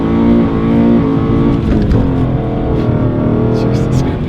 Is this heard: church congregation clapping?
no